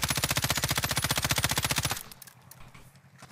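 An M13 assault rifle fires in a video game: a loud, rapid, evenly spaced burst of automatic shots lasting about two seconds, then it stops, leaving quiet background noise.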